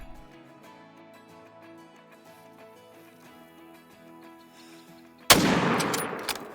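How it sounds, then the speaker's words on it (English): A single loud rifle shot rings out at a bighorn ram in the hunting game Call of the Wild, breaking sharply over a quiet backdrop of background music and leaving a decaying echo. "And perfect shot. He's down."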